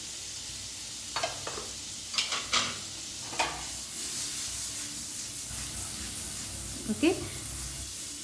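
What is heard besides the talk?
Amul butter melting and sizzling in a pan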